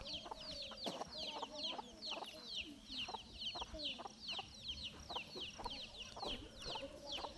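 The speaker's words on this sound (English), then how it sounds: "These indigenous hens lay eggs 3 times a year." Several indigenous backyard hens cluck steadily and overlap, with chirping birds in the background and a faint low murmur throughout.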